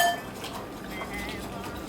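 Kitchen utensils clink and rattle as a whisk is picked up, a short burst of light metallic knocks close by.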